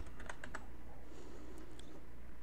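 A short burst of quick keystrokes on a computer keyboard as a folder name is entered, close but quiet over a steady background hum, followed by a few scattered clicks.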